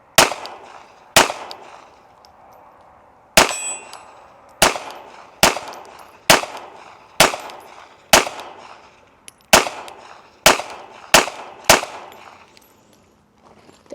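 Pistol shots from a Smith & Wesson Bodyguard 2.0 fired over iron sights at a steel target about 20 yards away outdoors, roughly a dozen sharp, loud reports in an uneven rhythm, each with a brief ringing tail.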